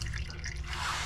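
Used motor oil from a 2014 Ford F150 trickles and drips steadily into a drain pan, a quiet, close liquid patter heard alone.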